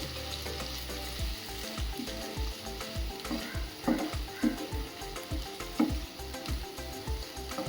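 Tomato, onion and green chilli sauté in a hot pan, a steady loud sizzle running throughout with repeated rhythmic scraping strokes of a spoon stirring the mixture.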